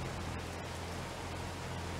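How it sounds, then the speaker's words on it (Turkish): Steady rain in the video game Farming Simulator 22, a dense, even hiss of falling water with a low hum underneath, continuous and fairly loud, with no voices. "Yağmur"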